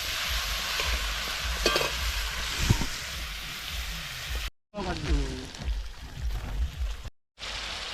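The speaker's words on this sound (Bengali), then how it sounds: "আমাদের মাংস দেওয়া হচ্ছে এখন" Duck meat drops into hot oil in a pot at an outdoor winter picnic. A dense, crackling sizzle runs throughout, broken by two brief cut-outs, with voices murmuring faintly beneath it.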